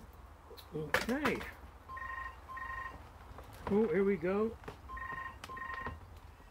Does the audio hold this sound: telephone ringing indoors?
yes